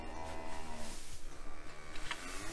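Cows in a sawdust-bedded barn give a long, loud, low moo that fills the space, with a steady hum of other barn noise beneath it.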